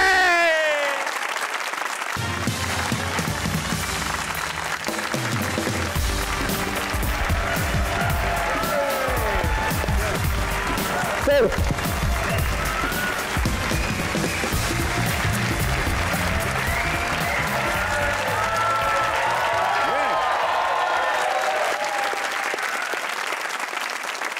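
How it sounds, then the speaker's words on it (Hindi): Studio audience applause at a Pakistani comedy talk show as a guest comes on, a long sustained roar of clapping from a big crowd, with music and a presenter's voice rising over it in places. "आज स्टूडियो लरज उठेगा, तालियां बजेंगी ऐसी"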